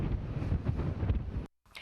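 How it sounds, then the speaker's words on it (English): Strong wind howls outdoors after a damaging storm, a steady, roaring rush that buffets the microphone and then cuts off abruptly near the end. "you can hear it. The wind still howling out there."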